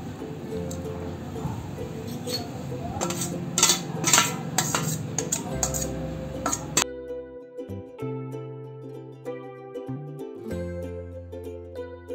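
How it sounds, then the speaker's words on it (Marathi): Hot cooked dal being mashed through a metal puran sieve, with repeated metallic scraping and clinking of utensil against sieve for several seconds, then quieter background tones; no speech. "ही डाळ गरम असतानाच आपण ही चांगली बारीक करून घेऊ चाळणीमध्ये घालून"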